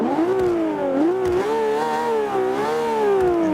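A Ferrari LaFerrari engine in Forza 5 holds a loud, steady revving note that rises and falls in pitch, close and sustained, with no talk over it.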